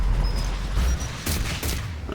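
Gunfire in the Mass Effect video game, a dense burst of loud sharp shots with rumbling booms and a few faint beeps, heard without talking.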